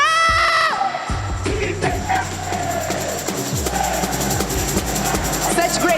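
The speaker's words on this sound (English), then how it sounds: "Such great support for you, MT7, definitely. That's super fans" Esports fans cheering in an arena during a Free Fire group stage match, a loud, dense crowd roar with shrill screams and whistles rising and falling throughout.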